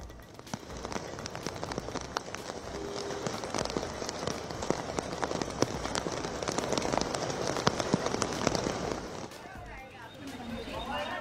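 Heavy monsoon rain pours down in Mumbai: a dense, steady hiss of drops with scattered sharper patters, loud and continuous throughout before easing slightly near the end.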